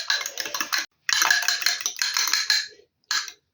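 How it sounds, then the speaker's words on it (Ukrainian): A fork beating eggs in a bowl for cheese potato pancake batter, close rapid clinking and tapping strokes in three bursts separated by brief pauses, no talking. "Так, вилочку гарнесенько їх переб'ю зараз."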